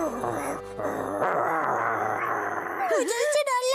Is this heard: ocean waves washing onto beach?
no